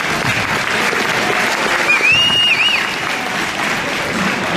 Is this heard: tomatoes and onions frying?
no